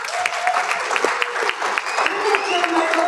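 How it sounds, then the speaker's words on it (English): A summit audience gives a hearty round of applause, dense steady clapping filling the room close by, with a voice speaking over it. "Why don't you give them a round of applause?"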